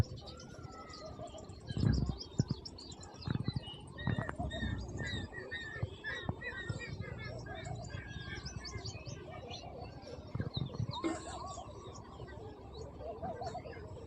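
Sparrows chirping over a farm field in the early morning, many small scattered tweets at a moderate distance, faint and steady throughout, with a few louder rustles and knocks nearby.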